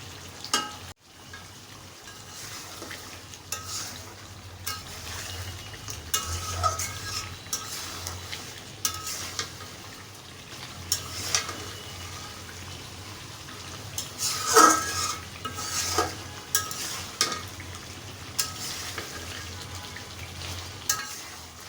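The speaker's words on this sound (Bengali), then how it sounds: "তো আমি এভাবে মাংসটা কষায় নিচ্ছি।" Chicken bhuna with ground spices frying in a pan, a steady close sizzle with spatula scrapes and occasional clinks as the meat is stirred, no talking.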